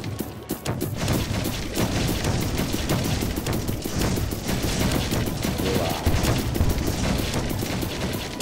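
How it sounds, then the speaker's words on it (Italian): Cannon fire in the Fort Defense game, a dense barrage of rapid booms and gunshot-like cracks repeating throughout over a loud busy battle din. "Appena entra mi arriva una cannonata."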